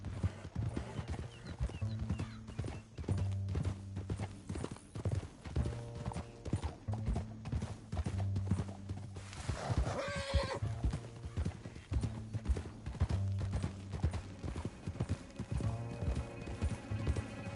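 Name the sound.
horses' hooves galloping in a video game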